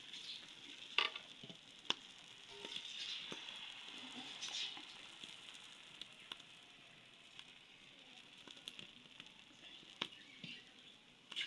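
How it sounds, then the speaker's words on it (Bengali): Pitha batter spread with ghee on a hot tawa gives a soft, steady sizzle, with scattered light clicks and scrapes of a ladle over the quiet background. "অল্প অল্প তাওয়ায় এইভাবে লাগাবো এক হাতা করে বেটার দিয়ে দিব এইভাবে"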